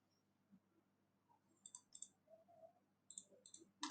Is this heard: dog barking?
no